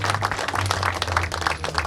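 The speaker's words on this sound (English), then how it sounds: "big round of applause to these all gentlemen, all players" A crowd claps for the Cricket Canada players at a T20 World Cup trophy tour community event, a steady, dense patter of applause over a low hum.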